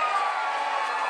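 A hip hop concert crowd at a show cheers in a brief, dense, steady roar with no pauses or distinct voices standing out.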